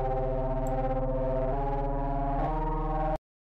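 A thick, buzzing Serum reese bass with heavy distortion holds a sustained chord, shifting pitch twice before cutting off abruptly.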